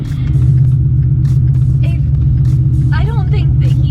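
A daily-driven Coyote V8 car with a VMP Gen3R supercharger, making over 1,100 rear-wheel horsepower, cruises with a loud, deep, continuous engine rumble from inside the cabin while people talk over it.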